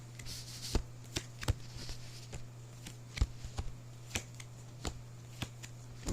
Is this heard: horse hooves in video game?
no